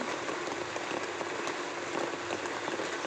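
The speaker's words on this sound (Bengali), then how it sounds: "একটু বৃষ্টি হচ্ছে তো ভালো লাগবে দেখতে" Steady rain falls on a village road, a dense, even hiss of drops that holds unchanged throughout with no voices.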